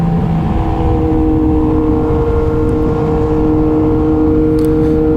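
A Yamaha MT-09 motorcycle cruises at an easy pace along the Chiang Mai–Chiang Rai road through Doi Saket, its engine a loud, steady, close drone with a constant tonal hum and wind rush.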